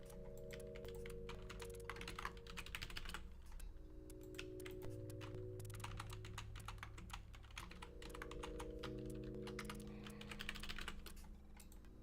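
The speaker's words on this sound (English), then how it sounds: "I gotta do more typing." Rapid, continuous clicking of a computer keyboard being typed on, steady and close, over a constant layer of game music during a Minecraft building session.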